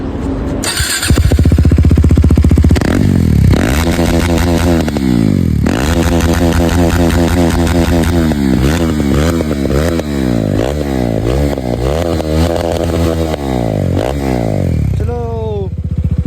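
KTM RC 390 motorcycle with its exhaust removed, idling then revved hard again and again, a loud raw rising and falling engine roar up close, with people talking over it.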